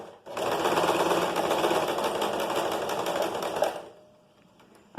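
A sewing machine runs continuously for several seconds, its needle stitching fabric in a fast, even chatter up close, then stops abruptly and is followed by a faint click.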